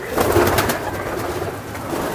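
Soft, continuous cooing from racing pigeons at a large pigeon farm, low murmuring calls blending together against a steady background hum.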